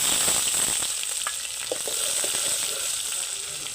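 Onion, curry leaves and cumin crackle and sizzle loudly in hot oil as a tempering for baingan bharta, a dense bright hiss with small popping bursts throughout.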